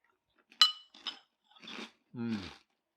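Crunching of Super Zeros high protein apple cinnamon cereal being chewed up close, four separate crisp bites spaced about half a second apart with no talking.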